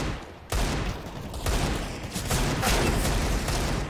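Loud, sustained bursts of gunfire fill a CS:GO match, starting sharply after a brief quieter moment and continuing almost without pause to the end, close and dense.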